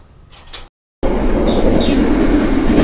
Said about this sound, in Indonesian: kita akan lanjutkan lagi perjalanannya menggunakan kereta api Tegal Express sampai stasiun Jatinegara